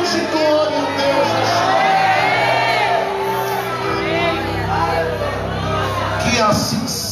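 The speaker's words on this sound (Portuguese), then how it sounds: "abra sua boca com liberdade, com autoridade, e dê um grito de glória" A church congregation shouts glory together in a loud, sustained crowd roar, with whoops and raised voices blending continuously throughout.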